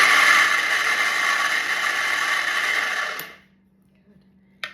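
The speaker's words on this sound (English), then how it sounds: "The blades of our twist and chop move up and down" A twist and chop manual food chopper works its blades up and down while making veggie lasagna, giving a steady close whirring, ratcheting clatter for about three seconds that then stops abruptly, leaving near silence and a faint click at the end.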